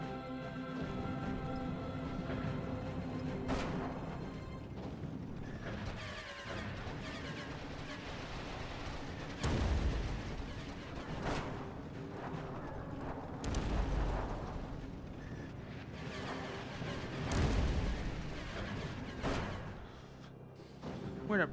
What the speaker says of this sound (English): Okay, bombs are away.